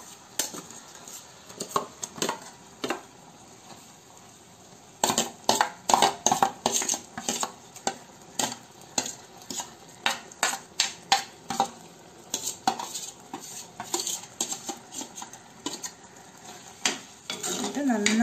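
A spoon stirs green grape pachadi mixed with ground coconut in a pot, giving a long run of close, irregular scrapes and clinks against the metal over a faint low sizzle.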